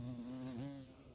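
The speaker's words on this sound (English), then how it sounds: "It's a carpenter bee." A large carpenter bee buzzes close by, a steady, loud droning hum that wavers slightly in pitch partway through before fading a little at the end.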